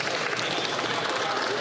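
Applause in the Canadian House of Commons during Question Period: steady, dense clapping from many members, fairly soft and continuous throughout.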